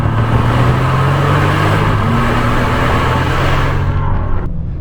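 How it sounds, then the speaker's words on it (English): A 2014 Bentley Flying Spur's twin-turbo V12 idles with a deep, steady exhaust rumble, low and muffled, holding even throughout before cutting off near the end. "you get that 12-cylinder twin turbo engine up there"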